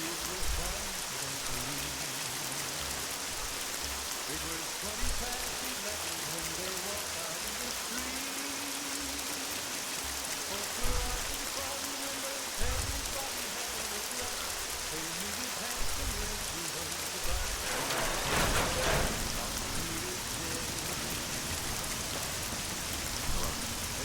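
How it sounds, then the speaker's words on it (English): Steady rain hiss from a video game, loud and continuous, with scattered louder drop patters and a brief burst of heavier splashing near the end. "You can still hear the rain."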